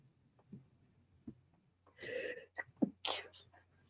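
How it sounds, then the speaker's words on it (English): Quiet room tone with a few faint taps, then a single sharp sneeze, followed by soft voices murmuring close by. "I knew someone sneezed."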